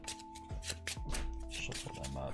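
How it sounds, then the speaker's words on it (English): A deck of playing cards for the Marvel Champions card game is shuffled in a few short riffling bursts, close and moderately loud, with background talk and a steady hum underneath. "Shuffle them up."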